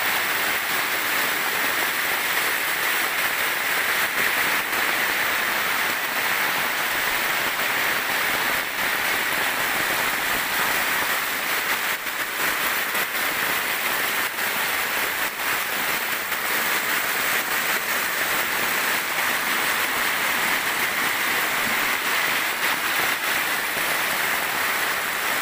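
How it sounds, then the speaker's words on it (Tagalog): Steady heavy rain pouring down, a dense unbroken hiss that stays loud and even throughout, with no voices. "Ayan na, lumakas na yung ulan."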